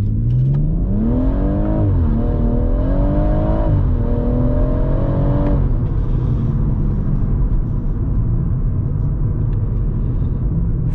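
A BMW M140i with a manual gearbox launches hard in Sport Plus mode, its engine revving up loudly through two rising pulls with brief shift dips before settling into a steady, lower rumble.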